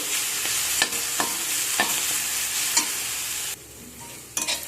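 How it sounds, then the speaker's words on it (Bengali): Cauliflower greens stir-fry with garlic, onion and chilli, a continuous close sizzle broken by several sharp spatula clacks against the pan, a brief lull, then more scraping at the end, with no voices. "আমরা কপি শাকের সাথে রসুন পেঁয়াজ লঙ্কা ভালো করে নেড়ে ভাজা ভাজা করে নেব একটু"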